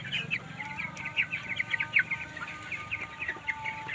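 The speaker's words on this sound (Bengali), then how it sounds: "আপনারা দেখতে পাচ্ছেন একটি সুন্দর ব্রয়লার মুরগির ফার্ম" Many broiler chickens, about 15 days old, clucking and chirping together in a busy, continuous chorus on a farm with rice-husk litter, fairly close, over a low background hum.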